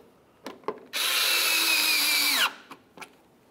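A power tool drives a fender liner mounting bolt on a 2004–2015 Nissan Titan, one steady whirring burst of about a second and a half that winds down at the end, framed by a few light clicks of handling.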